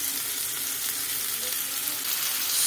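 Beef patty and mushrooms fry in olive oil in a hot pan, giving a steady, dense sizzle that holds even throughout and swells slightly toward the end, with no talking.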